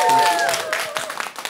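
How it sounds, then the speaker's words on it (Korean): A short burst of studio audience applause at a Korean trot singing class, with scattered claps and faint crowd voices mixed in. "박수"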